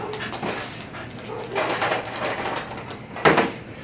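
Brody the dog reacts to a knock at the door with a few short barks and yips, the loudest burst near the end, over a room's background noise.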